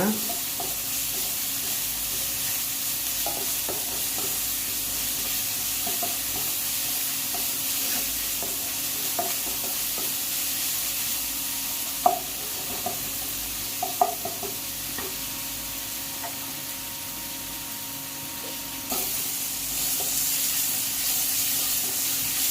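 Ginger garlic paste sautéing in a pan for egg curry, a steady sizzle and hiss running throughout with occasional soft stirring scrapes and clicks, close and continuous with no talking.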